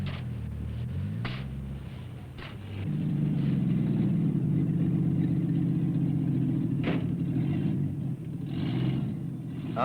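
Army surplus lorries drive on a beach used for low-water sea coaling, their engines giving a steady low rumble that swells louder partway through and holds, with no talk.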